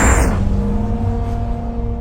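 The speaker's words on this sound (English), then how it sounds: "I will perform an acceleration from standstill, wide open throttle" A 1,800-horsepower Bugatti BR1 prototype pulls away at wide-open throttle from standstill on a frozen test ground in Arjeplog, Sweden, giving a loud broadband launch burst that settles into a steady, near engine drone with rising tonal whine.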